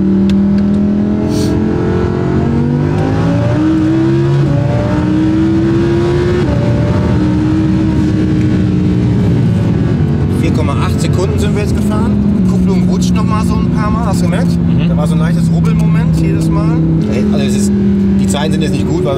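Heard from inside an Audi R8 Turbo driving uphill on a highway, the engine drones and climbs through its gears, the pitch rising and dropping with each shift, while people talk over it.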